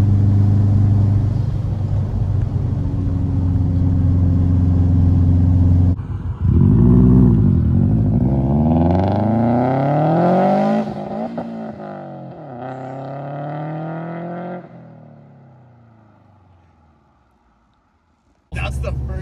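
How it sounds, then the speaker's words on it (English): A Subaru WRX wagon fitted with a VF48 turbo and ID1050 injectors at wide-open throttle: a steady loud engine drone, then hard rising revs through several gears that fade away, with talk at points. "Bigger turbo makes better noises for sure."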